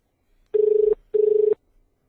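Telephone ringing on a call: two electronic ring bursts, each under half a second, separated by a short pause, clear and alone with quiet around them.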